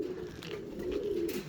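A veteran 2011 racing pigeon of Jintao Liu stock coos softly and steadily near a loft, alone and fairly close.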